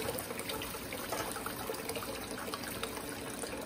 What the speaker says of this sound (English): I've got the angle and the water flow set up just right